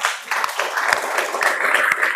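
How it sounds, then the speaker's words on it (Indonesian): Classroom applause for three students, a steady patter of many hands clapping fairly close for about two seconds, with faint voices mixed in. "Terima kasih aplaus untuk teman-teman yang bertiga."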